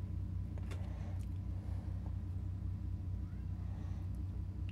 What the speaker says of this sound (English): My neighbors just started up their truck out there